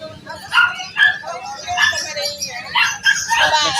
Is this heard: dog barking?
yes